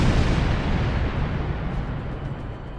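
Photon torpedoes fire in Star Trek Online, a loud, continuous rumbling barrage of space-combat blasts that holds steady for a few seconds, with no voices.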